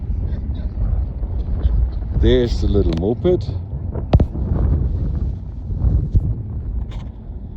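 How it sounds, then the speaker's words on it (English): Strong wind buffets the microphone on top of Grossglockner mountain, a steady low roar under close talking, with a passing vehicle or moped briefly audible partway through. "It's very, very windy up here and refreshingly cool."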